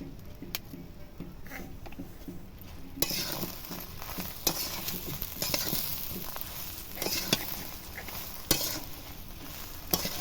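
Plum pickle with turmeric powder stirred in a pan, a steady soft sizzle broken by repeated scraping strokes and light clicks of the spoon, fairly close and continuous.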